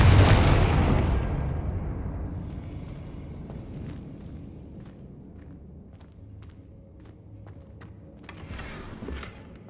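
A Confringo fire spell from Hogwarts Legacy erupts in one loud, close blast at the start, then the roar fades into a low rumbling tail with scattered faint crackles and debris pops.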